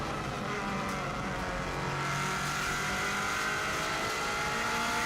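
A 2016 Subaru WRX STI with a fast-shifting six-speed gearbox races flat out up a steep hill on the Isle of Man TT course, its engine roaring loud and close, building power continuously with no one speaking.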